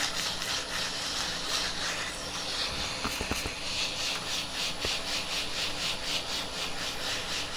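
Wet sanding of a turned ink pen spinning on a lathe, using automotive wet-sand paper from 220 to 2,000 grit: a steady, fairly quiet rhythmic hiss of abrasive rubbing with a few faint knocks.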